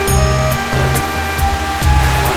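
Water pours down from the Mandakini river on the walking route to Kedarnath, a steady, loud, broadband rush that holds without a break, with a faint tonal hum running underneath.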